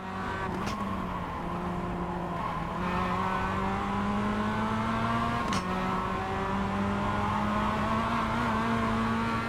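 Steady, loud drone of a race car engine heard from on board during a race, holding a constant pitch, with another car coming through on the left and no talking.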